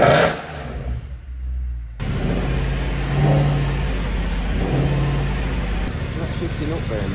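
A Mercedes C63, reported as broken, starts up after a short silence and settles into a low, rumbling idle with a couple of moderate revs, while people talk over it.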